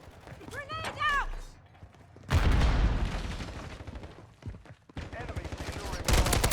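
Gunfire in the video game Modern Warfare 3 crackles in bursts during an objective match: quiet mechanical clicks first, then loud rapid shots, a lull, and renewed firing, with voices calling out in between.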